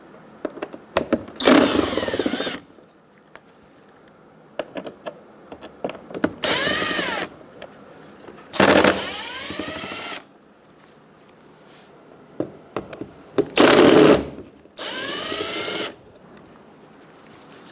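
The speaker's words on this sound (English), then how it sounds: "Remove the Phillips head screws for the fog light assembly." Power drill backing out Phillips head screws from the fog light assembly of a 2011-2014 Hyundai Sonata, five separate bursts of whirring motor whine with quiet gaps between, loud and close.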